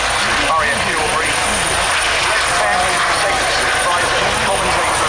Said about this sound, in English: Give them a wave as they leave with their Juno helicopters heading back to RAF Shawbury.